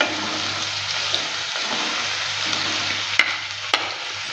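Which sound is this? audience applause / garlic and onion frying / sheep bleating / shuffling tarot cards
garlic and onion frying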